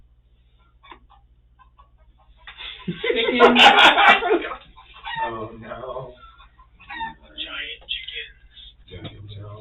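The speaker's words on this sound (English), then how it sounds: "giant chickens. No. Abyssal chickens." Chicken clucking and crowing played as a sound effect during a tabletop role-playing game session, a short burst of cackling fowl mixed with players' voices talking and reacting around it.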